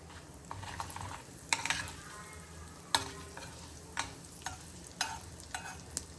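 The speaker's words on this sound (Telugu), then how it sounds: "ఇప్పుడు దీంట్లోకి ఎండుమిర్చి వేసుకుంటున్నాను." Dried red chillies and urad dal sizzle in hot oil for a tempering with mustard seeds, cumin and asafoetida, a steady soft frying hiss broken by sharp clinks of a spoon stirring against the pan.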